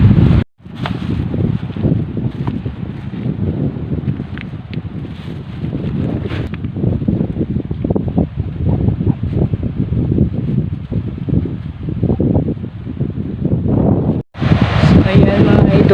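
Strong northeast monsoon wind by the sea roars and buffets a microphone in continuous gusts, with a rumbling low rush throughout and a brief dropout early on.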